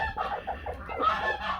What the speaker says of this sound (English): Some of these hens will actually peck at you.